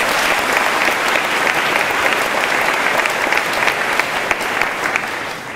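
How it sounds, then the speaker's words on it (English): Sustained, loud applause from a large audience at a high school graduation ceremony, a steady wash of clapping throughout with no break. "giving Mr. Coulter and Molly another round of applause."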